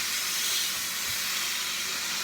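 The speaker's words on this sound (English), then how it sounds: "Hear all that sizzling?" Food sizzles in a smoking kitchen pan, a dense, even, loud hiss that holds steady throughout.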